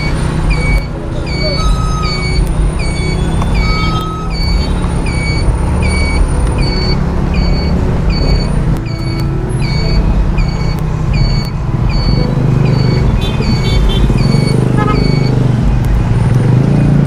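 Jeepneys and other road traffic pass on a busy street outside a school at morning drop-off, a steady engine rumble with repeated high electronic beeps throughout.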